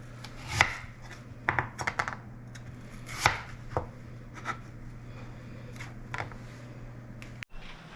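Knife chops against a board while cutting pumpkin come in scattered bursts, some close together, with quieter scraping between and a steady low hum underneath.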